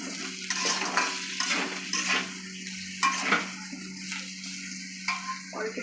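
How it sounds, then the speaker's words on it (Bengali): Potato, pointed gourd and pumpkin curry being stirred in a pan, with a spoon scraping against the metal in repeated strokes over a soft steady sizzle, close and moderately loud. "এবার আমি নাড়াচাড়া করে নিই"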